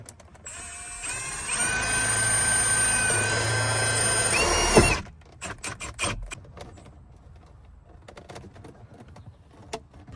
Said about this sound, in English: go drill right into my A-pillar.